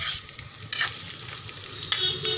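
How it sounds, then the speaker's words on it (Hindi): Pieces of taro (arbi) fry in ghee, a quiet steady sizzle broken by two sharper scraping stirs, close but soft. "इस अरबी नू थोड़े घी च ही फ्राई करना।"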